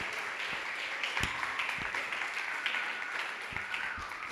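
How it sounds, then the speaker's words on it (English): An audience at a poetry event at a literary festival applauds steadily, a dense wash of clapping that holds at an even level throughout with a few sharper individual claps standing out. "I really, really want you to help me give them a big round of applause"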